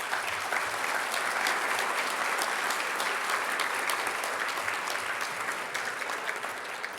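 Sustained audience applause fills a hall during a keynote at the 2016 Tempe MLK Diversity Awards, a dense, steady clapping that holds throughout and fades slightly at the end.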